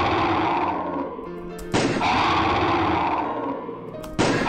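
Two sharp gunshots ring out in The Crooked Man horror game, spaced about two and a half seconds apart, each a loud crack with a short echoing tail over a dense, droning game soundscape.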